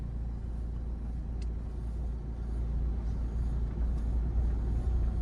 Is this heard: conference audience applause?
no